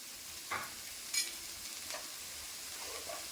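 Onion, garlic, ginger and shallots sautéing in a pan give a faint, steady sizzle, with a few brief stirring scrapes early on and quiet spells between.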